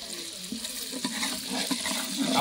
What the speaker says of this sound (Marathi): फ्राय, हा कांदा फ्राय.